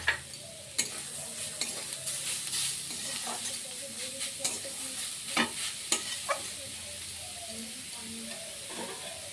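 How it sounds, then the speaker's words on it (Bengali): Vegetables for vegetable chops fry in a covered pan, giving a soft steady sizzle with scattered sharp ticks and clicks of stirring, fairly quiet and close, with no talking. "চাপা দিয়ে 1 থেকে 2 মিনিটের মতন ভেজে নেব"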